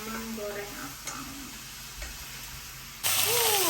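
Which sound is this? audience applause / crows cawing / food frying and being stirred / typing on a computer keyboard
food frying and being stirred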